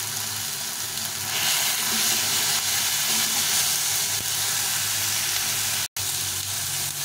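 Tomatoes frying with salt and turmeric in a pan, giving a loud, continuous close-up sizzle and hiss with a brief dropout near the end.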